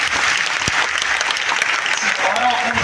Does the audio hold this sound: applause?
yes